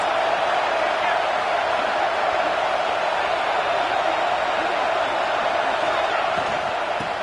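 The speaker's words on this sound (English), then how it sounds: "This crowd, full throat, splitting the eardrums and letting them know it's going to be a long day." A stadium football crowd roars as one loud, continuous wall of noise, dense and unbroken for several seconds.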